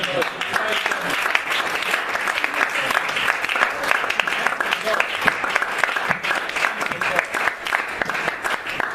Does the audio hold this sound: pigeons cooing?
no